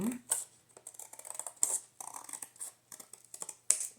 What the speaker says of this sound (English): Light line that I'm going to cut off right on the line